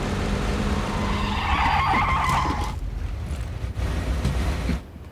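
A vehicle in PUBG passes nearby with a skidding, tire-squealing engine sweep that swells loud in the first half, then fades away as it drives off, leaving low ambient rumble.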